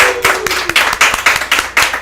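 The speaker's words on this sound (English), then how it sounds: "All right, let's put our hands together for Jaso." Audience applauding a performer at a live show: brisk, steady handclaps in a rhythmic pattern of about eight or nine strong beats, loud and close, with no talking over them.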